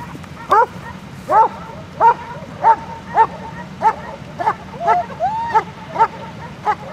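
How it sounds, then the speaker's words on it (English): Police K-9 dog barking repeatedly during a suspect apprehension demonstration, a steady series of about a dozen sharp yipping barks roughly every half second, fairly close over a low outdoor rumble. "we're gonna take a look at the dog in action"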